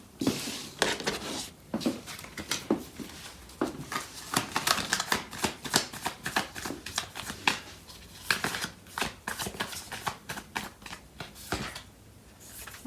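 Tarot cards shuffled by hand in a dense, continuous run of crisp riffling flutters and soft slaps, close and steady throughout, with no talking.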